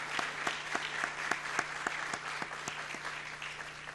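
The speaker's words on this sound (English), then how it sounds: "I'd like us to give them another round of applause" An audience at a Black History panel forum in New York gives a round of applause for the panelists, dense sustained clapping with sharp individual claps standing out throughout.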